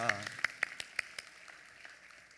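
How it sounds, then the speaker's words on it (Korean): Church congregation giving a blessing clap during a Sunday service: a brief voice, then a handful of sharp separate claps in loose rhythm that quickly thin out and fade. "축복의 박수하겠습니다."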